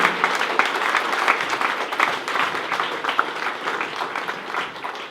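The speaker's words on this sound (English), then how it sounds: "You can clap" Wedding guests clap together during a toast to the bride and groom, a moderately loud round of applause in which individual claps stand out, steady throughout.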